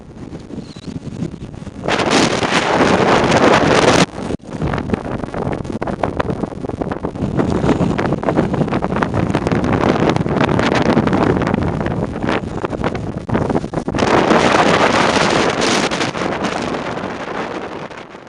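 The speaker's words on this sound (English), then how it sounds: "It's very, very windy up on the ridges" Loud, roaring gusts of strong wind buffeting the microphone on a mountain ridge of the Lefka Ori in Crete, nearly continuous with a brief lull, harsh and close.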